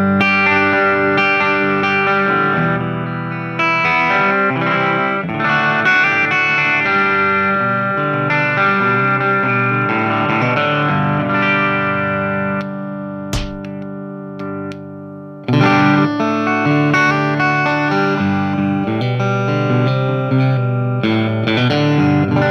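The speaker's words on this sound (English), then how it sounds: "we're ready to plug this Strat in and see how it sounds." A 2005 Mexican-made Fender Fat Strat electric guitar plays through a 1965 Fender Bassman amp with a reverb delay pedal, sustained chords and melodic runs ringing out loudly with effects for over twenty seconds, pausing briefly midway.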